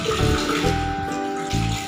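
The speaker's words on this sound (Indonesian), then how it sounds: "Membuka keran dan membasahi tangan." Water runs steadily from a tap while hands are wetted under it, a continuous close splashing with a faint low hum throughout.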